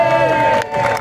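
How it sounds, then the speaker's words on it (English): A street-show crowd cheers and claps for a girl spinning a basketball, a loud burst of whoops and applause that dips briefly and then rises again. "When this little girl spins the ball, everybody clap and cheer."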